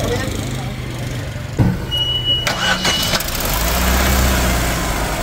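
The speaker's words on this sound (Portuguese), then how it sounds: "Pedi para que um amigo desse partida para vocês escutarem aqui o ruído do motor" A used car with a 1.4 engine is cranked and starts at an outdoor used-car fair, with clicks and a brief crank followed by a low, steady idle that settles into a continuous hum.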